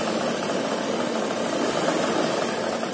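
A sewing machine stitches a decorative design along a trouser hem, giving a steady, close, continuous mechanical whir with no pauses and no talking.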